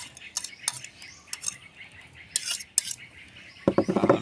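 A metal utensil scrapes and taps against a pan while stirring cold cooked rice for egg fried rice, in close, irregular clinks that grow busier toward the end, with faint birdsong behind.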